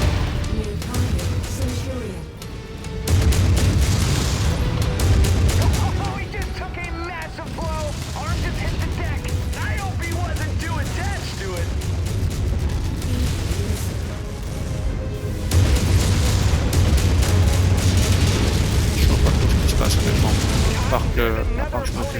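Missile explosions and weapon fire in MechWarrior 5: Mercenaries, a dense, loud stream of booms and rumbling blasts that barely lets up, with someone talking over the battle.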